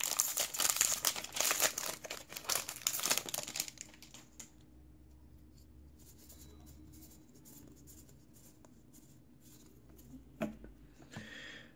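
A Magic: The Gathering Dominaria booster pack wrapper is crinkled and torn open close up, giving loud crackling foil sounds for about four seconds, then faint handling rustles in a quiet room.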